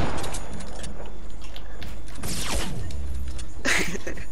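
Sniper gunfire in a video game: a few sharp cracks with a sweeping whoosh and a loud burst near the end, amid busy game noise.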